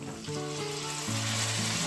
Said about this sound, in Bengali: আমার রসুন পেঁয়াজ মরিচ ভাজা হয়ে গেছে এবার আমি সবজিগুলো দিয়ে দেবো